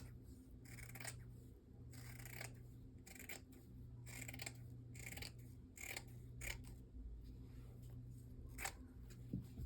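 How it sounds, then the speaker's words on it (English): Scissors snip along a marked line to cut strips, a quick series of close, crisp metallic cuts repeating in an uneven rhythm over a faint steady hum, no talking. "I'm going to cut that line."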